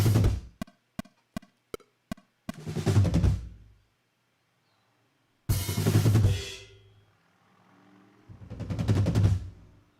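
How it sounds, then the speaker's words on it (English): Two tracks of drum fills panned hard left and right, sharp clicking ticks giving way to bursts of rolling drum hits separated by gaps of near silence, punchy and close, with no voices. "Basically, he did 2 tracks of fills, panned hard left and hard right."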